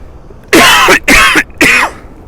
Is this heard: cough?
yes